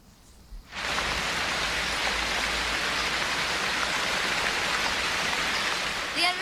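Rain falling steadily in a dense, even hiss that starts abruptly after a brief quiet moment and continues without letup.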